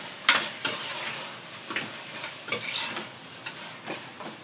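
Mutton sizzles in a hot pan while being stirred, with sharp scraping strokes of the spoon at an uneven rhythm over a constant crackle, close and clear, no voices.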